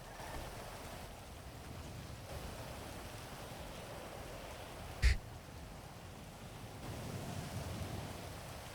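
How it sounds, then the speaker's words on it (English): Steady rain falling in the video game GTA V, a continuous soft hiss of rainfall, with one brief sharp knock partway through. "It's raining, man."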